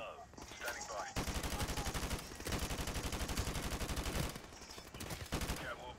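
Rapid, sustained automatic gunfire from the video game Call of Duty Modern Warfare Remastered rattles loudly in dense bursts, with brief quieter gaps of game ambience at the start and end.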